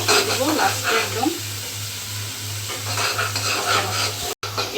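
Spice paste for chickpea bhuna sizzles and fries in a pan, a steady close crackle with a few stirring scrapes and a low electrical hum beneath. No one speaks.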